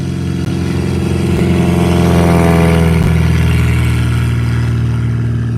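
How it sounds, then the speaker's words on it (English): A Beechcraft Debonair airplane's piston engine roars steadily and close by as it takes off at a fly-in, a loud continuous drone with a slight rise in pitch and no talking. "Beautiful Debonair taking off."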